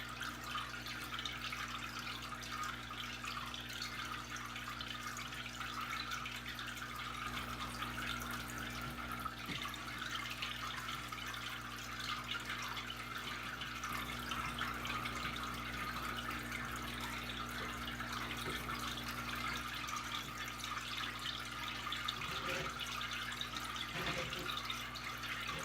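Siphon tube drawing water out of a 55-gallon planted aquarium during a cleanup, a faint continuous trickle and gurgle with a steady low hum underneath, no voices.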